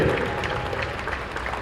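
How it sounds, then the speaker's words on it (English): Crowd applause at a ballpark for veterans, a short dense wash of clapping heard from amid the stands, fairly loud and steady throughout. "how about a round of applause for our veterans"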